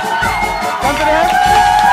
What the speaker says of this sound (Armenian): Դե իհարկե այո, ծափահարում ենք։